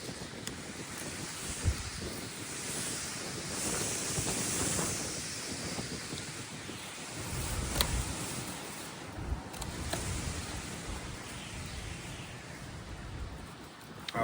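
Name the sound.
strong wind blowing outdoors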